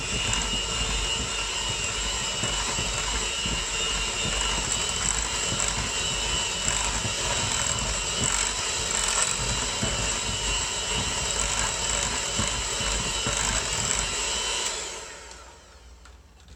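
Electric hand mixer blending mashed banana, softened butter and eggs for banana bread, a steady loud motor whir running continuously without pause for about fifteen seconds before cutting off abruptly.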